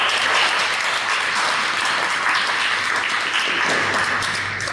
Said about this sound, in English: let's welcome Julia in a big round of applause